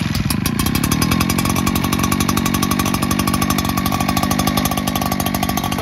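A gas-powered leaf blower billed as extremely powerful runs at a steady, loud, close engine roar with a rapid buzzing pulse throughout, no voices over it.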